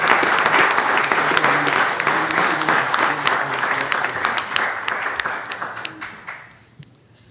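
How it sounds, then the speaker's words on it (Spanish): Audience applause at a genealogy panel in Mexico, a dense and loud wash of clapping from the crowd that thins out and fades toward the end. "Solicito un aplauso"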